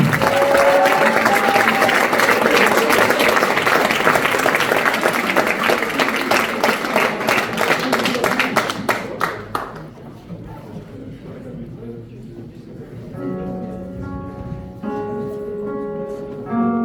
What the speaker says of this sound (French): je vais vous demander de faire un tonnerre d'applaudissements, mais vraiment un tonnerre d'applaudissements pour la pianiste